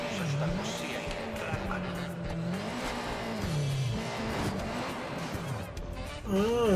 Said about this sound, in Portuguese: Só consegui dirigir essa moto aqui direito